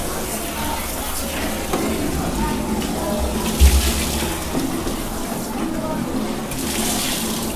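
Water splashing and pouring steadily during outdoor washing of a person, a continuous noisy rush with a brief louder slosh midway, nearby, with voices faintly underneath.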